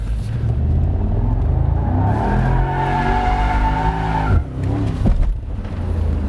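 A Mercedes SL 55 pulls hard at full throttle, its engine roaring loudly and steadily with rising harmonics that climb, dip briefly near the end, then pick up again, with no voices over it.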